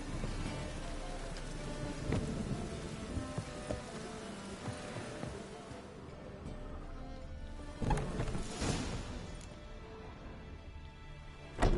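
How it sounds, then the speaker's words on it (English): Steady rain pours in The Witcher 3 during a thunderstorm, with rumbling thunder swelling several times over the constant hiss of falling water. "A storm, damn it."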